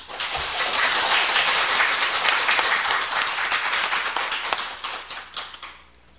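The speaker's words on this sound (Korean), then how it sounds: "박수로 환영해 드리겠습니다." Sustained audience applause at a church gathering greets a preacher coming forward, a dense crowd clapping loud and steady for about five seconds before tapering off near the end.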